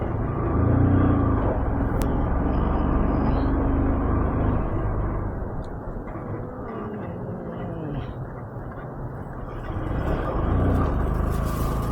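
Heavy road traffic passing close by during a food delivery ride, a dense, loud rumble of engines that swells and fades across the stretch, with no talk.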